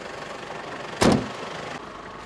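A manual-gear car engine is restarted with a sharp, brief burst of cranking and catching, then settles into a steady, close idle rumble with no one talking.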